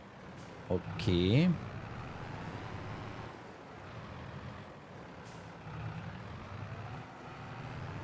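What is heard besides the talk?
truck reversing in snow in Landwirtschafts-Simulator 22 video game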